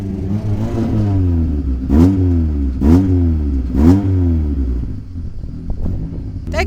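A Honda CRX engine idles and revs in three clear, rising bursts, each one swelling and falling back to a steady rumble, heard close and loud with no one talking.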